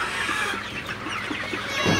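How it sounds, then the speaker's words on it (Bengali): Sonali super hybrid chickens cluck in soft repeated notes while eating feed at a farm, with continuous rustling and pecking underneath, no talking. "আমার সোনালি সুপার হাইব্রিড মুরগিকে খাবার দিয়ে দিলাম। তো আপনারা দেখতে পাচ্ছেন মুরগিগুলা কীভাবে খাইতেছে।"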